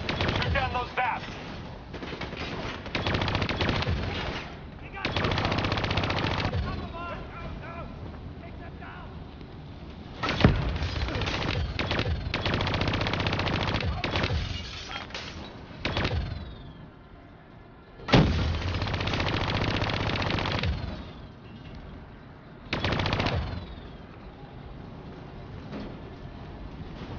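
Repeated bursts of heavy gunfire in Call of Duty Black Ops 3 as shots rain on vats, loud and chaotic, with explosive impacts and pauses between volleys over most of the half-minute stretch.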